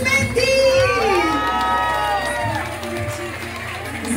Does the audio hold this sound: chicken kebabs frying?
no